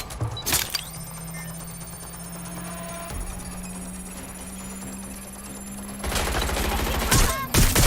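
Gunfire in the Watch Dogs Legion video game: sharp bursts crack out near the start and again in a dense, loud volley at the end, with a steady low hum and sparse clicks in between.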